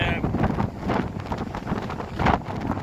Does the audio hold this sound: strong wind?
yes